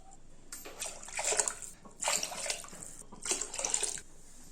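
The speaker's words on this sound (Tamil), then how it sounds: "இப்போ இதில் தண்ணி சேர்த்துக்கலாம்." Water poured from a tumbler into a pot holding two tumblers of rice for dal rice, arriving in three separate splashing bursts of roughly a second each, close and moderately loud, with short pauses between pours.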